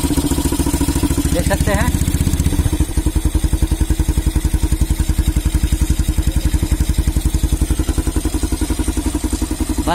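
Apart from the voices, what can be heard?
Honda CB Twister motorcycle engine revving after fuel setting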